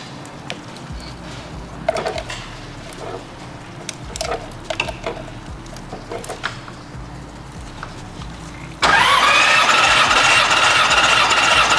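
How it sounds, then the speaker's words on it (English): A twin-turbo Nissan 300ZX engine cranking: a steady, rapid starter-motor chug with rhythmic pulses runs for about nine seconds, then gives way to a sudden, loud, steady roar to the end. No voices are heard. "Make sure we don't drain this thing down with all the cranking."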